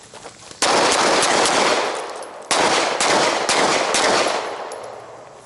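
Bursts of rapid gunfire in a tactical multi-threat shooting drill, one opening volley followed by two more sharp strings of shots, loud and close, with no talking.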